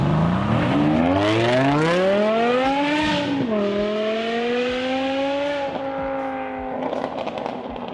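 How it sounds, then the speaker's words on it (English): A luxury sports car's high-revving engine, SMG gearbox noted, wails loudly at full throttle, its pitch climbing steadily through one long pull, dipping briefly at a shift, then holding a sustained scream before easing off. "At full throttle, an F1-inspired wail that sent shivers down your spine."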